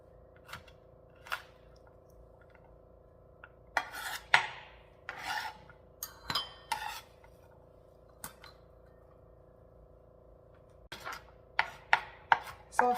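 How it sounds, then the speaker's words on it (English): Knife chopping garlic cloves roughly on a board for garlic prawns, a few scattered cuts early, then a cluster of sharp, close chops, a short pause, and another quick run of cuts near the end. "So I've chopped 12 cloves here. Just roughly chopped."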